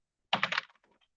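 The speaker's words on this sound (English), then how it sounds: "So Isabella is typing, but not with much success" A short burst of typing on a computer keyboard, three or four quick close key clicks followed by a few fainter taps, in an otherwise quiet room.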